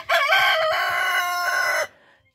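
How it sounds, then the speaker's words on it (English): A single loud, close chicken call in a coop holding about forty birds, a drawn-out crow-like squawk lasting under two seconds before fading to quiet. "That's a chicken, chicken, chicken,"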